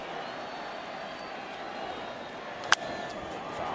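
A large standing crowd at a World Series baseball game between the Toronto Blue Jays and Los Angeles Dodgers makes a steady, distant murmur. A broadcaster talks over it, and one sharp crack stands out briefly.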